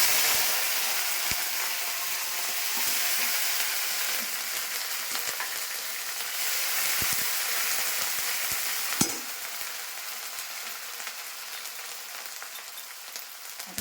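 Two dry red chillies, bay leaves, five-spice seeds and ginger paste frying in hot oil: a loud, continuous crackling sizzle up close, with a few sharp utensil knocks and stirring sounds, no voices.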